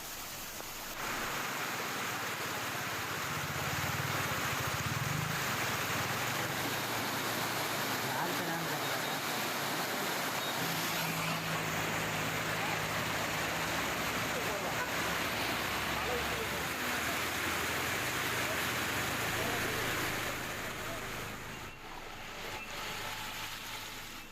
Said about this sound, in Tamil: தொடர்ந்து பெய்து வரும் கனமழை காரணமாக சாலைகளில் காற்றாற்று வெள்ளம் கரைபுரண்டு ஓடுகிறது.